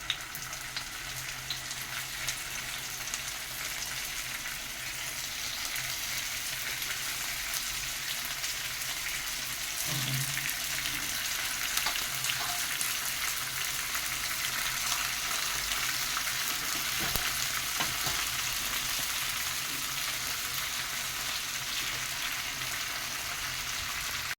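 Koi fish fry in a little mustard oil in a hot pan, a continuous, even sizzling hiss with faint crackles and pops. It runs close and steady throughout with no voices.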